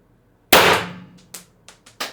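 A single sharp crack from an IntruBuster G2 air gun powered through an Umarex 2x12g CO2 adapter, loud and close with a ringing decay, followed by a few small clicks and knocks.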